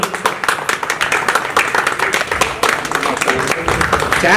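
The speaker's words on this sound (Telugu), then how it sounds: "సార్కి అందరూ ఒకసారి గట్టిగా క్లాప్స్ కొట్టాలి" A reunion party crowd applauding a teacher, dense continuous hand clapping at close range with a few voices mixed in throughout.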